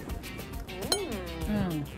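A single bright clink of glasses during a toast over a home-cooked Spanish dish, sharp and brief amid close, overlapping chatter and laughter.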